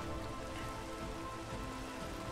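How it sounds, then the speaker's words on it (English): Steady rain pours down during a thunderstorm in the Minecraft video game, a dense continuous hiss of drops on surfaces with no thunder crack evident. "Oh, it's a thunderstorm."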